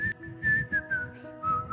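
A person whistles a short, wavering tune, with notes sliding up and down, clear and close.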